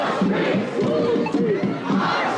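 A large, dense crowd roars and chants at an anti-war march in Washington, a steady loud wash of many voices with some shouted calls rising above it.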